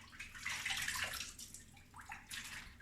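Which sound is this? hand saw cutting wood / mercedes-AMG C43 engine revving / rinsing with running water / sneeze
rinsing with running water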